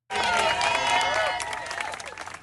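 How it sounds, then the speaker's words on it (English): A crowd clapping out departing colleagues outside the U.S. Centers for Disease Control, a dense burst of applause that starts abruptly and stays strong before thinning slightly toward the end. "Outside the U.S. Centers for Disease Control, more than a clapping out for departing colleagues, a very public show of solidarity against the Trump administration"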